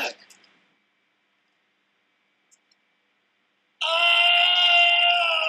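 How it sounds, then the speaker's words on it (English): A character in the Back to the Future adventure game lets out a loud, sustained scream with strong harmonics near the end, after a long stretch of near silence broken by a few faint clicks. "The most pathetic scream."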